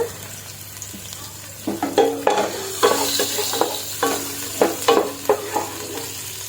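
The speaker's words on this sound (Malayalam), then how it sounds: "ഈ എണ്ണയിലേക്ക് നമുക്ക് ഉണക്കമുളക് ഇട്ട് ഇതിലേക്ക് കുറച്ച് സവാള ചേർത്ത് കൊടുക്കുകയാണ്" Dried red chillies and onion fry in hot oil, with a low steady sizzle under a run of sharp spatula scrapes and clinks against the pan that grow denser toward the end.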